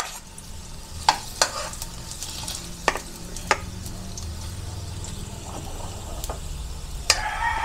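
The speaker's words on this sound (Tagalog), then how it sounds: "Painitin po muna natin yung ating mantika. Yan, unahin po muna natin yung ating luya." Sliced ginger sizzles in hot cooking oil in a pan, a soft steady frying hiss with scattered sharp crackles and stirring clicks, close and fairly quiet, with no speech.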